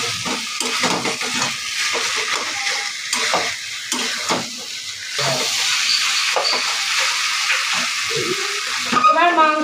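Reserved stock from boiling goat meat is poured into a pot of cooking goat meat, giving a steady watery sizzle and hiss with stirring scrapes, while a voice talks over it at moments.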